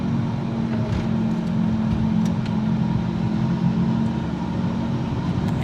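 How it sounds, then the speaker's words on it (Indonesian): A Nissan Livina with an automatic gearbox drives in D, its engine giving a steady, close cabin hum with road rumble and no clear break at the gear shifts. "Ini dari kita coba gigi D, teman-teman, untuk melihat responsif oper giginya."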